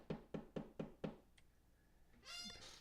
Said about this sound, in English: the chapter begins with Ed Helen hearing a series of faint but determined knocks at her door